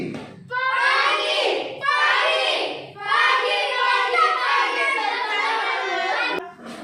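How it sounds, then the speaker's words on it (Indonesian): Students in a classroom clap their hands together in a sustained burst of applause, mixed with children's voices and chatter throughout. "tepuk tangan dulu untuk kita semua"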